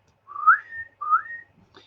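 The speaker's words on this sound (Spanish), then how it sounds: "este silbato es una botella silbadora que con agua da doble sonido" A pre-Columbian whistling bottle filled with water gives two clear, sliding whistled tones one after another, close and alone with nothing else audible.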